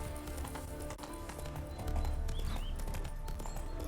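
Horse hooves clip-clop on the ground in the video game Witcher 3, a quick steady rhythm of hoofbeats that grows heavier halfway through, under game music and ambience.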